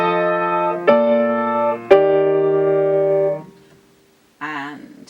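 Piano plays inverted jazz guide tones, seventh below and third above, as three sustained two-note chords struck one after another, then a brief pause and a short final chord; slightly out of tune, close and clear.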